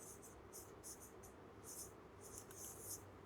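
Chalk or marker writing on a board during an engineering lecture on mechanical translational systems, heard as a run of short, scratchy strokes in bursts, fairly close, over a quiet room hum.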